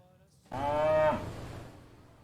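Cattle on a ranch let out one loud, drawn-out moo that rises into a strong bellow. It then trails off into quieter rustling background noise, with no voices.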